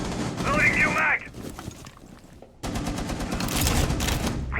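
Gunfire in a shooter game: loud bursts of rapid shots, a short lull with scattered pops, then another dense volley, with a voice briefly heard alongside.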